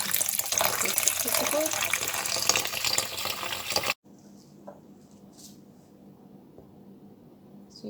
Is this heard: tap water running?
yes